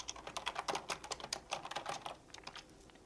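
Someone types a name on a computer keyboard in a quick, uneven burst of close, crisp key clicks that slows and thins toward the end.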